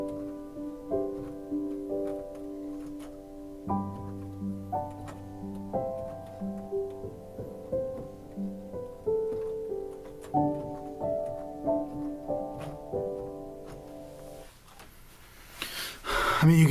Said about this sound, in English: It's probably one of the best soft pianos I've heard.